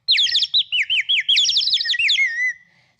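Rapid run of high, sweeping bird chirps and trills, loud and close, lasting a few seconds and fading at the end, with no voices.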